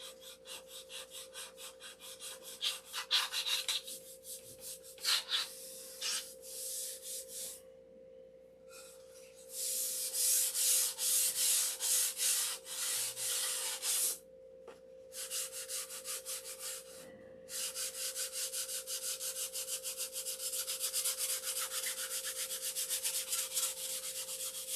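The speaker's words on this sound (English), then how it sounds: "sanding it with 600" Hand sanding with fine 600-grit sandpaper: steady, rhythmic rasping strokes that run on and off, broken by short pauses, close up and alone over a faint steady hum.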